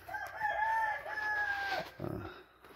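A game chicken lets out a drawn, wavering crow nearby, followed by a short rough cluck, fairly clear against a quiet farm background.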